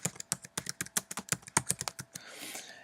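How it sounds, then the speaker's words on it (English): Rapid, crisp keystrokes on a computer keyboard as a name is entered, about two dozen close taps in quick irregular succession, ending in a brief soft shuffle, with no talking. "So I'll type in his name."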